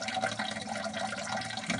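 Diluted worm farm liquid pours steadily out through an open drain valve, a continuous close rush of water with no pauses and no talking.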